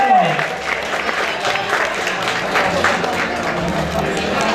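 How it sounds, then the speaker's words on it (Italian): An audience applauds the newly crowned winner at the Miss and Mister il Friuli 2013 pageant election, with steady, dense clapping filling the hall for several seconds and a host's voice briefly heard at the start. "Un bel applauso."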